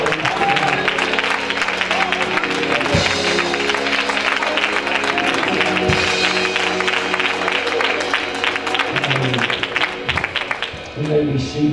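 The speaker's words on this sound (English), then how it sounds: "Let's give him a hand clap of praise." A church congregation claps their hands in praise for a pastor. The claps sound full and crowded, with sustained musical tones and some voices underneath, and the clapping tapers off near the end.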